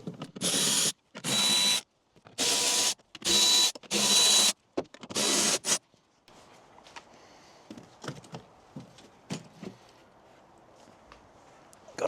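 Power tool whirring in short bursts while 8mm bolts are unscrewed from the pollen filter cover of a car, about five loud close spurts followed by quieter scattered clicks and handling noises.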